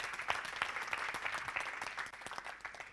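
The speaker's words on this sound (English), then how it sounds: "give Greg a round of applause" Quiet applause from a small group at a video-creation workshop, steady scattered clapping with a few sharper individual claps standing out, heard at some distance.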